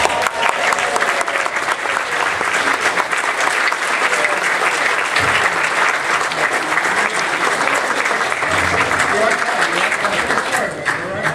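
Loud, sustained applause from a convention panel audience at San Diego Comic-Con, dense clapping filling the room for the whole stretch, with voices faintly audible beneath it.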